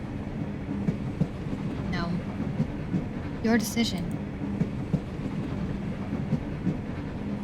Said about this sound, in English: The train is slowing.